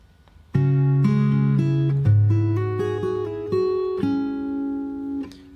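Fingerstyle acoustic guitar slowly plays one bar of a song, a sequence of clear plucked notes and small chords with hammer-ons and pull-offs, ringing close and alone.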